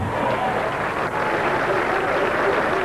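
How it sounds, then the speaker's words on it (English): Crowd at a 1992 bowling tournament applauds in a dense, steady wash of clapping and cheering that fills the few seconds, with a voice faintly mixed in. "Crowd really getting into it now"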